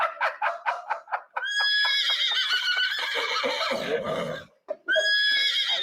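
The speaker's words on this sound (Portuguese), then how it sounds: "É um pônei!" A horse gives a loud, close whinny, opening with a rapid string of pulsed bursts that swell into a long, wavering neigh, then breaks off into a final short squeal.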